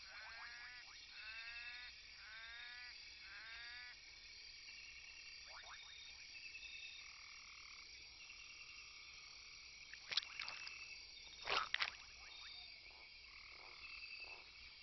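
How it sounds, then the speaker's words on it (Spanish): A red-eyed tree frog calls in a Central American jungle with rapid repeated croaking trills, followed by scattered chirps and a few sharp clicks over a steady hiss of insects and night ambience. "La rana verde de ojos rojos."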